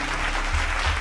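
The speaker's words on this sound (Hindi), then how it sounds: "हाँ तो ताली बजा दीजिए।" Brief burst of audience clapping at a rural development session on gram panchayat functions: a dense, steady patter of many hands, fairly close, with no talk over it.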